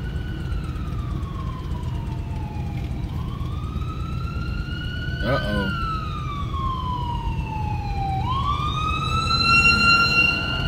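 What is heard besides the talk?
ambulance siren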